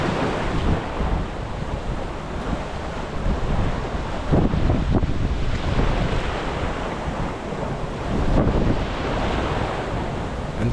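Wind and waves rush continuously around a yacht sailing fast at sea near the Marquesas in Polynesia, a loud steady roar with surging swells and heavy wind buffeting the microphone.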